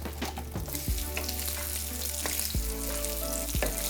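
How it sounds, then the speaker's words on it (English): Onions frying in oil over solid heat in a fry pan for pad see ew noodles, a continuous close sizzle with occasional stirring scrapes and soft clunks, no talking. "In goes your oil. In goes these onions."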